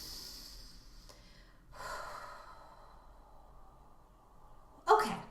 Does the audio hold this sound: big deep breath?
yes